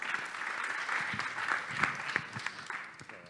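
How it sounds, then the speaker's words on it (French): Audience applause at a business startup day conference welcoming a speaker to the stage, a steady wash of clapping hands moderately distant, alone without talk. "merci de l'applaudir s'il vous plaît"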